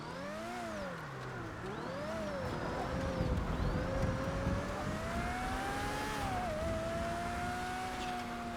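A car in a GTA roleplay game drives and revs, its engine tone climbing and dipping through gear changes over a steady, fairly loud drone, with no talk.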